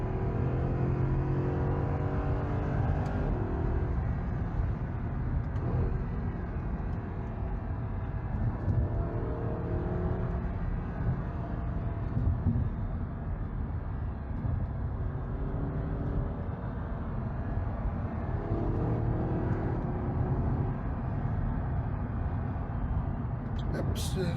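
A car engine runs steadily, a continuous low, throaty drone with mild swells suggesting light revving, while a voice talks over it.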